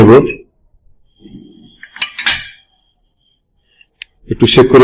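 Glass volumetric flask holding distilled water, shaken so it clinks and rattles in a few short bursts, close and fairly loud, with a voice talking before and after.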